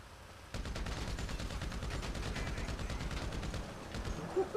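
Combat MG machine gun fire from GTA erupts after a brief quiet opening and continues as a rapid, sustained stream of shots that stays loud and dense to the end.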